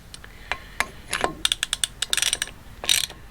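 A ratchet turns a socket on a thread repair tool. It gives quick, close, crisp clicks in uneven bursts that speed up into rapid runs.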